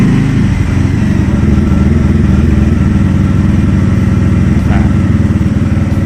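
A TVS Ronin 225 motorcycle started up and left idling, giving a loud, steady, close-up rumble throughout, with a short spoken word partway through.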